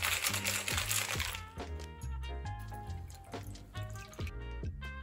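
Ice and gin rattle in a cocktail shaker with honey syrup and fresh lemon juice, shaken in quick, rhythmic bursts of clattering hits, close and fairly loud.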